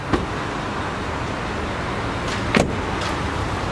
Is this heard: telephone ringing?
no